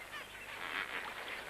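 Flamingo flock calling on a soda lake, a faint, dense, steady chorus of honking, goose-like calls blending together at a distance, with no voices.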